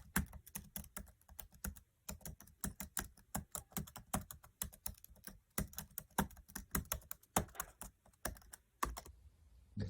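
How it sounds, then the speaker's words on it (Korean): Rapid clattering keystrokes on an ASUS CXB170CK 17.3-inch Chromebook keyboard, close and crisp, in uneven bursts with short pauses, continuing for about ten seconds without speech. "키보드 타이핑하는 소리는 이 정도가 들려요"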